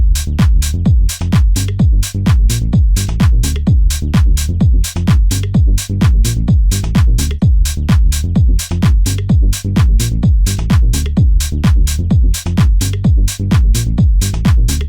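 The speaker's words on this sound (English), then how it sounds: "if we layer it together with the main bassline, it sounds like this" A tech house synth bassline stacked with a vocoder formant top layer pumps loud and steady in fast, regular pulses, each hit punchy and bright, running alone without any voice.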